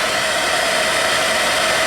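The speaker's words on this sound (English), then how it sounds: "Hit it with the hair dryer so it's completely matte." A hair dryer blows steadily and loudly up close over painted skin tones, a constant whooshing hiss with a faint motor whine throughout.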